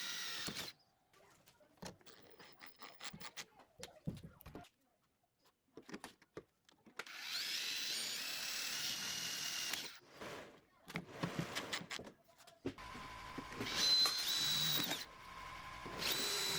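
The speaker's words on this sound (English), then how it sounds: "Drill and install screws in the lower panel." A power drill whirs in repeated short bursts, then runs longer, driving self-tapping screws into the lower interior door panel of a Hummer H1, close and clear with quiet pauses between runs.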